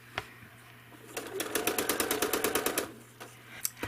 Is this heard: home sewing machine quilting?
yes